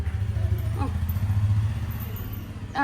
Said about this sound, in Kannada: ಬೈಕ್ ಸೌಂಡ್ ಕೇಳಿದ ತಕ್ಷಣ